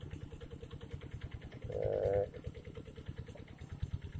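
A steady tractor engine chugs nearby with rapid regular pulses while plowing a rice field, briefly joined by a louder mid-pitched drone in the middle.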